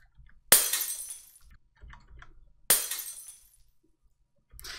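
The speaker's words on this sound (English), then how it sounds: "I'm just going to grab this glass breaking sound effect." Two loud crashes of breaking glass, each a sharp impact followed by a scattering of tinkling shards, separated by a quiet gap, with a third burst starting at the very end.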